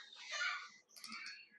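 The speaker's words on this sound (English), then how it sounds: "sorry if you can hear that noise in the background with the kids crying" Children crying somewhere in the background, heard faintly as two high, wavering wails separated by a brief pause.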